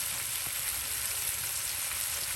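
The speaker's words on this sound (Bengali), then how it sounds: "একদিকে মাছ ভাজি হচ্ছে" Rohu fish pieces fry in a pan with a steady, dense sizzle and crackle at close range, holding at an even level throughout with no talking.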